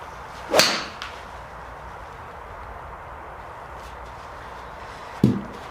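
Two sharp, clicky impacts of a Cleveland Launcher HB Turbo hollow-construction iron striking a golf ball, a few seconds apart, against quiet outdoor background.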